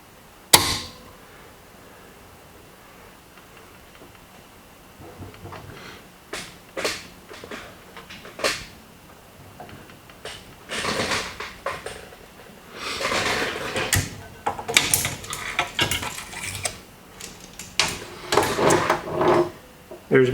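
Half-inch bar stock being clamped in a home metal shop makes quiet, irregular clicks, knocks and scraping taps, sparse at first and then busier toward the end, with no voices.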